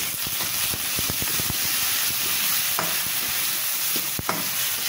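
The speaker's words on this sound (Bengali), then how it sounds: "পেঁপের সঙ্গে বাদবাকি একটু ভাজা হয়ে যাবে" Papaya frying with shrimp and turmeric in a pan makes a constant loud sizzle close by, broken by repeated scraping, stirring strokes; no one speaks.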